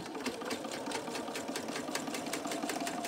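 A sewing machine stitches fabric forward and then reverses into a back stitch to fasten the seam, a steady rapid mechanical whirring chatter that runs close and continuous without pause or speech.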